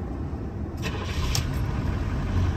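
A 1981 Chevy Caprice Landau Coupe diesel engine cranks with effort and catches, settling into a steady, loud idle rumble, with a couple of sharp mechanical clicks along the way.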